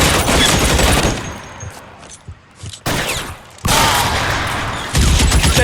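Heavy gunfire in the L.A. Noire detective game set in 1947 Los Angeles: loud, sustained volleys of shots that cut out briefly twice and resume, dense and close throughout.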